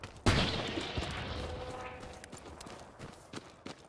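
Gunfire in the World War II shooter Hell Let Loose during a competitive scrim: a sharp close shot followed by scattered, fainter shots and crackle over a fading battlefield rumble.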